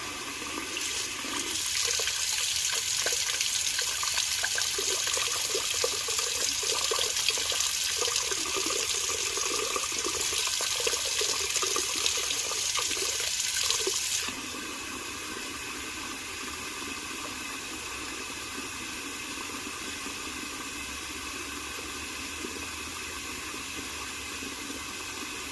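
Hot water runs steadily from a tap for about fourteen seconds, a loud broadband splashing rush, then drops to a quieter continuous flow for the rest, with no talking.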